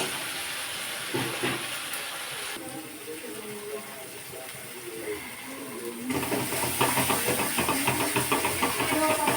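A spice paste sizzles and fries in a pan while being stirred for an egg curry, a steady hissing crackle that grows louder and denser toward the end, with no talk over it.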